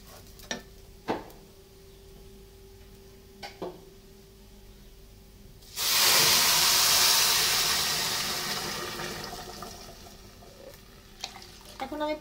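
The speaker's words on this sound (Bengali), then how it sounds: "এখন আমি পানিটা দিয়ে দিলাম, গরম পানি, একদম ফুটানো পানি।" Freshly boiled water hits fried rice in a cooking pot with a sudden loud hissing rush that slowly fades, after a few quiet clinks and taps.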